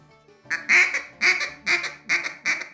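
Duck call blown as a bouncing hen call, five sharp two-syllable quacks in a steady rhythm, close and loud with no talking.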